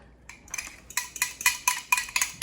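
Spoon or whisk clinking repeatedly against a bowl while a warm cream mixture for broccoli quiche is stirred, an irregular run of close, bright metallic taps with no talking.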